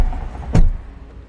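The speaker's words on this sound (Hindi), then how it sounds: "ये हमारे खलील भाई बैठ रहे हैं गाड़ी में।" A person climbs into a car, with a single sharp door thunk at the midpoint amid low interior rumble and faint vehicle noise.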